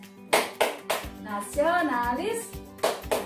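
Students in an Indonesian primary classroom clap the rhythmic PPK pattern, short sharp bursts of hand claps in a patterned beat with a sung or chanted line in between.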